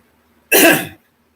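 One loud, close cough, a single short burst that cuts off into silence.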